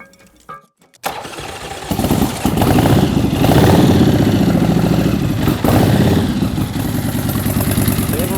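A custom-built motorcycle engine starts after a brief quiet moment, then settles into a loud, close, steady running idle with slight rises in revs, heard alone without talk.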